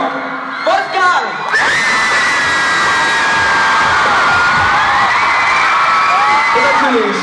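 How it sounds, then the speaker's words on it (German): A concert audience in Dortmund cheers a guest musician, with loud, continuous whoops, shouts and cheering that swell after a short spoken introduction and carry on for several seconds. "großer Applaus bitte"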